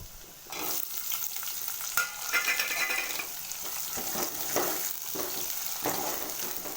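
Onions sizzle and crackle in a hot pan with garlic already fried, intermittent stirring scrapes and clinks over the steady frying hiss.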